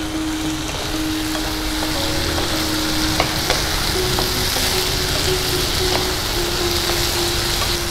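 Cucumber curry (shukto) in a covered pan gives a steady, even sizzle and bubbling simmer that runs unbroken throughout, with no voices.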